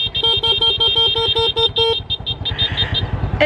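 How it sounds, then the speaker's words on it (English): A vehicle horn honks in a rapid series of short beeps, then a few longer toots, close and loud, out on the Ha Giang Loop in Vietnam with a motorbike engine idling underneath. "It's amazing how much entertainment you can get from a horn"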